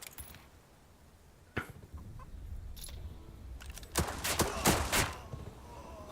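Rifle shots from riflemen in a World War 2 strategy game, Headquarters World War 2, sound as a few sharp isolated cracks, then a tight cluster of loud volleys near the end.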